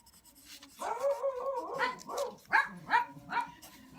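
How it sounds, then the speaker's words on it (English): Dogs bark, yip and whimper up close in a short, uneven series of calls, some drawn out and whiny, others sharp and clipped. "You gotta love my dogs."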